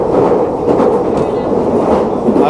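A London Underground tube train runs at speed on a newer line, giving a loud, steady rumble and roar with faint clickety-clack from the wheels and no break.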